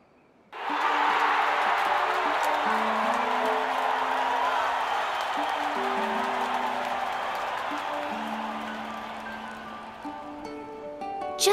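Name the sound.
crowd cheering in the Octopath Traveler 2 video game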